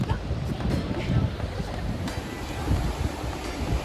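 Ocean surf washes steadily onto the beach beside a pier, a continuous low rumble and hiss of breaking waves mixed with gusty wind buffeting the microphone.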